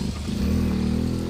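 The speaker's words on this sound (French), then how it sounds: "petite moto sympa" A small motorcycle runs close by, its engine a steady, loud buzzing drone that swells slightly as it passes.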